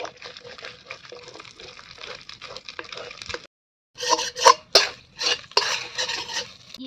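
Spoon stirring an egg mixture in a pan while cooking Indian egg rice, with steady scraping, clinking strokes that break off briefly and then return louder and more uneven, close by.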